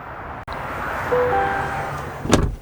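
Power-adjustable steering wheel motor in a 2025 Cadillac Escalade IQ Luxury 2, a steady faint electric whir lasting about two seconds inside a quiet cabin, followed by a brief louder clunk.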